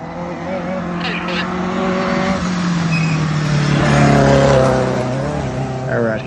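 Nissan Skyline race car on a hillclimb run at Ararat, its engine droning loud and steady with rising and falling revs throughout, with faint tyre noise and no talking.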